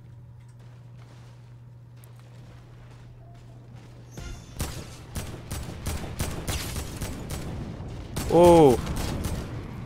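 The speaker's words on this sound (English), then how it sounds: "Okay, someone else is shooting at him." Gunfire in the Fortnite video game rattles off in a quick series of sharp shots over quiet background, with a brief voice exclaiming near the end.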